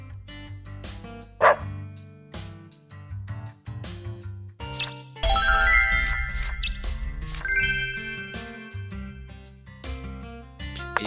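Dalmatian dog in the video game Deadly Premonition 2: A Blessing in Disguise, with close, loud, repeated barks mixed with game music, chimes and jingling effects.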